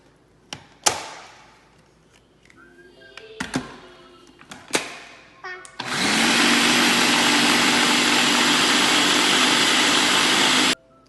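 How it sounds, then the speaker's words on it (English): An electric grinder grinds chicken nugget ingredients. First come several thumps and clatters of the jar being set up, then the motor roars loud and steady for about five seconds before cutting off. "Now let's grind all of the ingredients."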